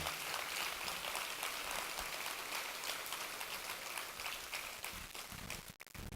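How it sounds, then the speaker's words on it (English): Audience applause at a Haiti film and music night, a steady wash of clapping filling the room for about six seconds before a brief dip near the end. "give him a round of applause because he makes it all look good"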